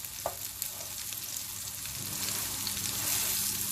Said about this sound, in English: Make sure that they're nicely in the oil from one side.